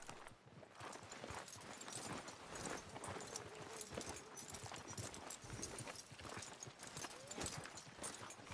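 Horse hooves clip-clop steadily as a rider sets off on a newly acquired horse in the Western game Red Dead Redemption 2, a continuous rhythmic patter mixed with background game ambience.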